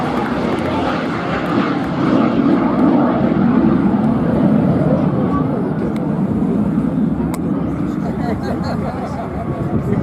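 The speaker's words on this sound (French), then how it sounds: "Et juste à gauche en configuration à pontage, mesdames et messieurs, Jean-François Domenex et son Zéphyr" Zephyr vintage aircraft flying in an air show display, its engine droning steadily and loudly throughout while an announcer speaks over a public address system.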